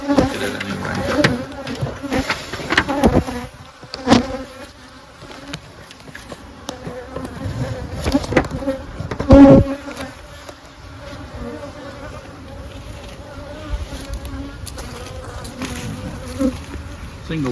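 Honey bees swarm and hum loudly around an opened single-brood-chamber hive with a honey super on top, a week after a Formic Pro treatment. The dense, close buzz carries on without a break, with sharper passes as bees fly near.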